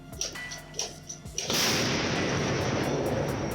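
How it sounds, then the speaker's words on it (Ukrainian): After a few faint clicks and knocks, an artillery gun fires with a single loud, close blast, followed by a long roaring rumble. "Увага! Гармата!"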